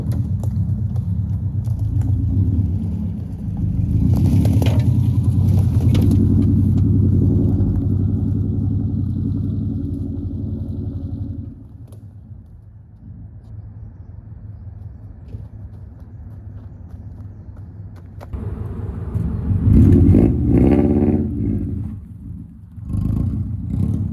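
An off-road Subaru Forester climbs a hill on Mount Sugarloaf, its engine rumbling loudly nearby, then easing and fading as it moves off, before revving hard again as it returns closer toward the end.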